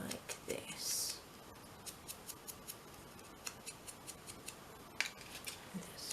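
Scissors cut out paper pieces, a steady run of small, crisp snips close by and faint, with a brief rustle near the start.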